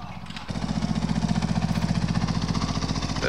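Tractor engine in Farming Simulator starting up after a brief quiet moment, then settling into a loud, close, rhythmic diesel chug with a steady pulsing beat that continues to the end.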